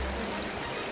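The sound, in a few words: creek flowing beside a trail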